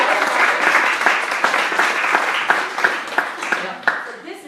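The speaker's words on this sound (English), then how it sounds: "big applause" Audience applause at a talk on Long Island, a dense wash of clapping that stays loud and steady, then thins into a few louder individual claps toward the end.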